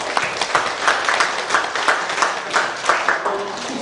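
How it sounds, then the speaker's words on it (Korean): A church congregation claps steadily for a few seconds, a dense, even patter of many hands with rhythmic surges and little talk. "우리 박수 한번 하겠습니다."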